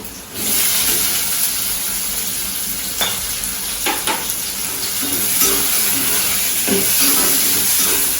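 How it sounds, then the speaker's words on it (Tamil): Chopped onions and green chilies sizzle steadily in hot oil in a pan, a constant close frying hiss with a few sharp spatters and stirring clinks. "நல்லா வதங்கட்டுங்க. நல்லா ஓரளவுக்கு கொஞ்சம் வதங்கணும்."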